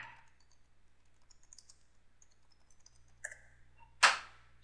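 Keystrokes on a computer keyboard in quiet room ambience: a couple of faint clicks early, a short cluster near the three-second mark, then one louder, sharper key strike, with no talking.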